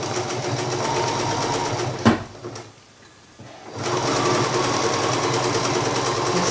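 A Bernina sewing machine with a leather roller foot stitches bulky leather in a fast, even mechanical whir, pausing briefly with a couple of clicks before resuming the rapid stitching.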